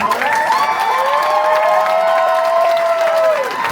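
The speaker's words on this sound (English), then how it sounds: "Round of applause for our panelists." An audience at a horror convention panel applauds the panelists, steady clapping and cheering filling the room with a sustained tonal sound and a voice over it.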